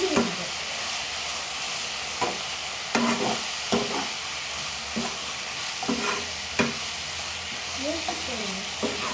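Pieces of chicken frying with chili powder in a home kitchen pan: a continuous sizzle broken by sharp scraping strokes of a spoon every second or so, close and clear.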